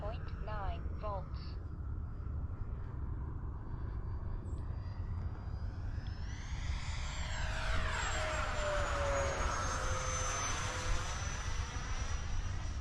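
An FMS Yak-130 RC model jet whines overhead, its pitch sweeping down as it passes and then steadying into a thin high tone over a constant broad rush of noise, fairly faint and distant.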